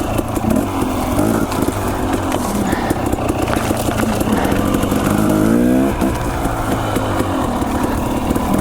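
Dirt bike engine while riding scenic motorcycle single track, a continuous close rasp rising and falling with throttle changes and a brief rev climb midway, with rough wind and trail noise throughout.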